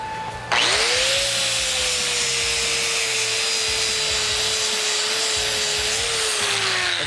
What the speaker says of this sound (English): I'm gonna grind this tack out